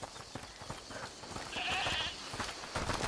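Goat bleating in the video game A Plague Tale: Requiem, one wavering cry rising over a busy background of game ambience and footsteps, moderately close.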